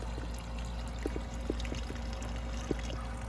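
Water drains slowly from a Universal Rundle Colburn urinal with a faint, steady trickle and a few soft gurgles, heard close and quiet over a low hum.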